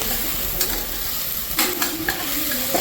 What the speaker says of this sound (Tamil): இப்போ வந்து வெங்காயம் வந்து இவ்வளோ வதங்கினா போதும்.